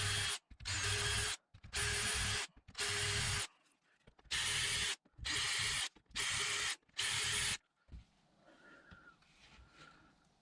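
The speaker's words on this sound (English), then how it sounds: "let's start by drilling these pilot holes." A power drill bores pilot holes into a new oak top on an old Workmate-style portable workbench, sounding in seven loud bursts of about a second each, separated by short pauses, then faint handling noise.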